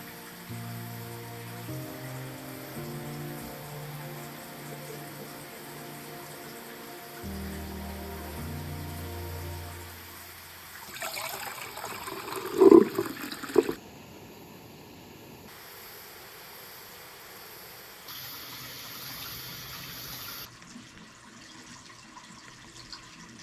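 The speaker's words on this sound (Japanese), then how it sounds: "結構雨が降ってきたので屋根のあるところに避難してご飯を食べます。" Rain in the ancient cedar forest of Yakushima, beginning as a light patter and building to a heavier, steady fall on surfaces, with a few louder knocks midway and no talk.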